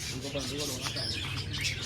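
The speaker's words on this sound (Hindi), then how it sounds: "जंगली कबूतर आ गया, जंगली कबूतर वो देखो।" Wild pigeon calls and squawks sound close by, mixed with a steady low background hum and some indistinct voices.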